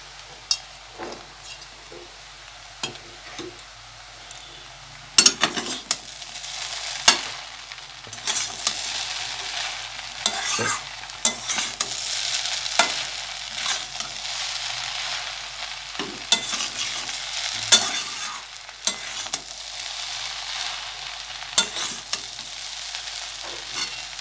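Eggs stirred and fried in a pan with chow mein of soybean chunks, cauliflower and potato: steady sizzling hiss with frequent scraping spatula strokes and clanks, close and fairly loud, no talk.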